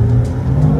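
A Porsche accelerates hard on the road during a road trip, a short loud burst of engine drone with a steady low hum, heard from inside the car.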